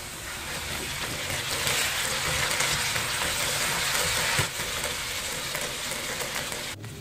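Large chunks of potato and carrot fry lightly in oil in a pan for corned beef caldereta, giving a steady, even sizzle that crackles on without a break.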